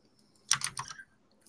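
Fast burst of typing on a loud mechanical keyboard, a quick cluster of clacky keystrokes lasting about half a second, close up in a quiet room.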